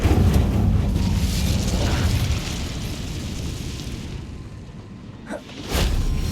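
A fire spell cast in Hogwarts Legacy on Xbox Series X: a loud booming burst of flame with a rushing whoosh at the start, fading through a rumbling tail, then a second swelling roar near the end.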